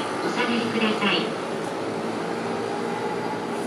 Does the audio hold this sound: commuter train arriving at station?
yes